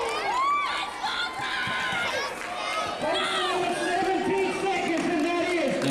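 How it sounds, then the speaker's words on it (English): Spectators at an amateur wrestling match cheer and shout wildly after a quick pin, loud whoops and yells rising and falling around a commentator's voice. "Crowd going nuts."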